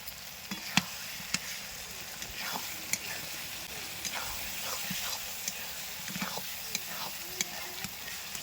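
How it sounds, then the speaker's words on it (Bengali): Spices and garlic fry in a kadai for Bengali chicken kasha as turmeric goes in, a quiet sizzle broken by repeated sharp scrapes and taps of a spatula stirring, with no talk. "মশলা সব ভাজা হয়ে গেছে রসুনটা একটু ভালোভাবে না ভেজে নিলে হলুদ দিলে তরকারি এই কড়াই লেগে যায়"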